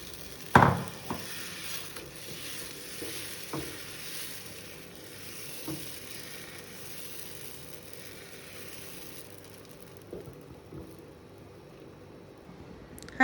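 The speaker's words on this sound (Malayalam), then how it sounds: "ചൂടായ ഒരു പാനിലേക്ക് നമ്മുടെ മാവ് ദോശയൊക്കെ ഉണ്ടാക്കുന്ന പോലെ ഒന്ന് ഒഴിച്ച് പരത്തിയെടുക്കാം" Wheat batter for gothambu madakkappam, spread thin over a hot pan like a dosa, gives a faint, steady sizzle with a few soft scraping taps near the start, and the hiss fades toward the end.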